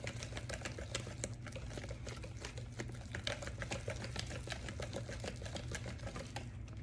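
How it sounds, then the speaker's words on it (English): A whisk beats peach cobbler batter with vanilla in a bowl, making a fast, steady, close-up rattle of wire against the bowl that continues without a break. "I'm whisking all of this together"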